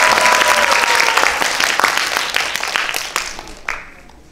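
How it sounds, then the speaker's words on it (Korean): Audience applause at a talk concert in Chungbuk, a dense burst of clapping from a crowd that starts strong and gradually thins out, ending with a few last claps. "여러분 박수 한번 주시면 감사하겠습니다"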